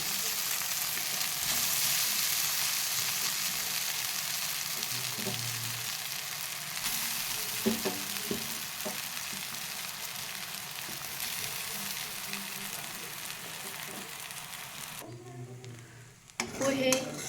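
Soaked poha sizzles and fries in a pan with onion, a steady hiss running throughout, with a few scraping stirs of the spoon and a brief clatter of cookware near the end.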